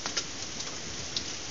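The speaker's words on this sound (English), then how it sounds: "That's much the definition of a torrential downpour" Steady, dense hiss of heavy rain pouring down, with a few sharper ticks of hail striking a surface; brief and fairly quiet.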